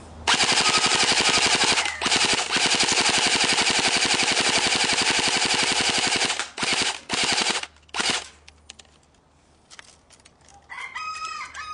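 An M1A1 Thompson submachine gun fires outdoors from about 30 feet away, a long loud rapid-fire burst for over six seconds, then several shorter bursts, followed by quieter background sound with a rooster crowing faintly.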